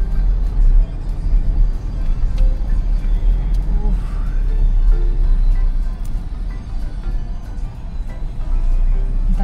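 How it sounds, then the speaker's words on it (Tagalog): A truck runs alongside a car on a busy road among motorbikes and other traffic. Its engine gives a steady, loud low rumble heard from inside the vehicle, with passengers talking over it. "Sasabay yung truck sa atin."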